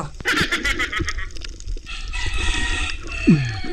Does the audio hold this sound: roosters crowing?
yes